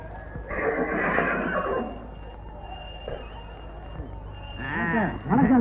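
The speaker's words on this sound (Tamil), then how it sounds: "குதிரையா?" A horse neighs at a village horse-racing event, a clear whinny rising out of background noise near the end, with a murmur of low activity before it.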